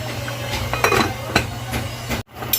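A lid set onto a pan of frying banana peels, with clinks and metallic knocks from cookware over a low frying hiss, close and brief.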